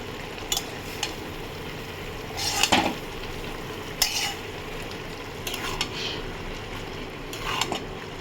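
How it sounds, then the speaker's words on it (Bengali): A metal spatula scrapes and stirs mung dal into pieces of ash gourd in a frying pan, with intermittent scraping strokes over a soft background sizzle, fairly close. "এবারে পড়ছে না, আমি খুন্তি দিয়ে দিচ্ছি"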